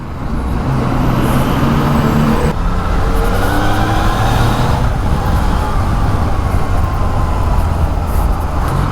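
A Yamaha XSR900 motorcycle ridden in first gear at about 31 mph in Manila, its engine a steady low drone mixed with wind rush and road noise, loud and constant throughout.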